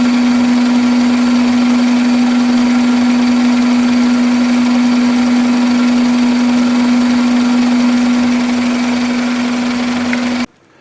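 A 1997 Toyota Camry engine idles nearby with a loud, steady drone and a constant low hum, running unchanged for about ten seconds before cutting off abruptly.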